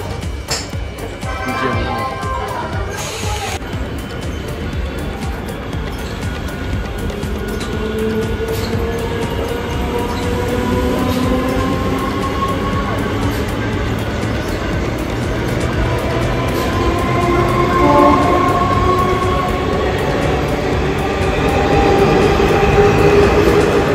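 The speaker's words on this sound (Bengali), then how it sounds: "সামনে দিয়ে ট্রেন আসছে" A Bangaon local train passes close by near Sealdah, a steady rumble of wheels and carriages that swells and holds loud for the whole stretch, with no talk over it.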